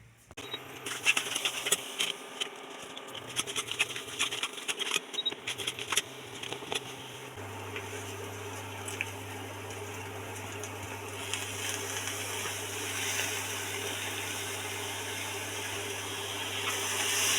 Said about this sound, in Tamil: இதை வந்து மசாலாவை அரைச்சி எடுத்துக்கலாம்